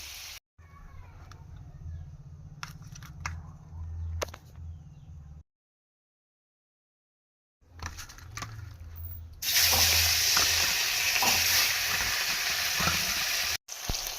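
Quiet clinks and stirring, then a brief silence before a loud burst of sizzling as cumin, bay leaf, dried chilli and chopped onion hit hot oil and keep crackling steadily.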